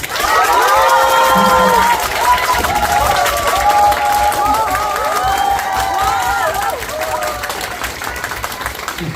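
A large crowd at a city ambassador appointment ceremony for a singer applauds and cheers loudly and continuously, with high-pitched shouts and whoops over dense clapping and babble, easing slightly toward the end.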